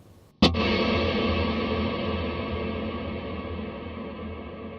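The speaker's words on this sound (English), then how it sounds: "Very long reverb, right?" A single sharp guitar chord through a Black Country Customs Secret Path reverb pedal rings out, then swells into a long, lush wash of reverb that lingers and fades slowly across several seconds.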